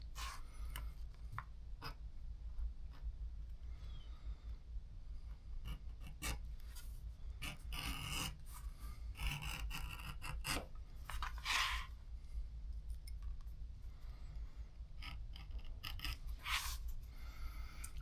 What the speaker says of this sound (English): while we can, edge bevel this inside